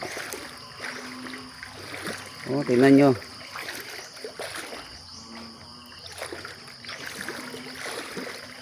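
Knee-deep floodwater across a banana farm, sloshing and trickling close by with occasional splashes as someone wades through; someone speaks briefly over the water.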